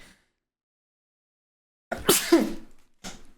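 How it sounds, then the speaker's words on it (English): A single loud, explosive sneeze after a stretch of silence, followed by a brief exhale. "I just sneezed. I have vicious sneezes, y'all."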